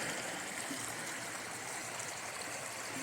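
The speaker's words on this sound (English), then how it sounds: "Justice Creek, running good, lots of water." Justice Creek on the Appalachian Trail runs high with lots of water, a steady full rushing and gurgling flow heard close by with no pauses and no voices.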